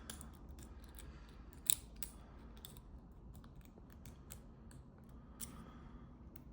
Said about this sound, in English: Just keep going back and forth and trying to get those sets.